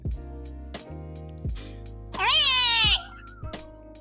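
A person imitates a cat with a few short meows, ending in one longer, loud, rising-and-falling meow, heard up close with quiet gaps between calls.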